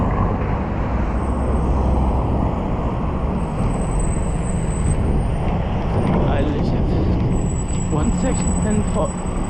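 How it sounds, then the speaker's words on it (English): A lorry rolls past on a UK road through a steady roar of traffic, with a hiss of air brakes and a whine of passing vehicles throughout. "thought this lorry is gonna come through here"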